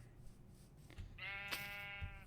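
A Minecraft sheep gives one short, clear bleat after a soft low rumble, close and alone without talk.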